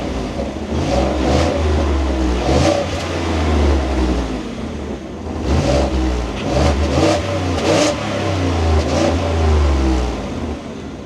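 A 2026 Ford F-150 Tremor V8 engine runs loud and close with a steady low rumble, swelling through several rev blips and settling back, with no talking.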